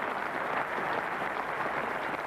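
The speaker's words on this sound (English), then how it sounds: "Warm applause all the way around" Warm applause rolls around a cricket ground at Old Trafford during a 1992 England versus Pakistan Test match, a distant, even crowd clapping that holds steady throughout.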